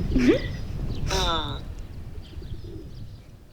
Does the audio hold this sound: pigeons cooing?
yes